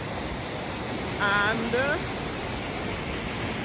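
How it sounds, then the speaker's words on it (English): Waterfall in Edessa, Greece, a broad steady roar of falling water filling the background while someone speaks briefly over it. "See that waterfall behind me?"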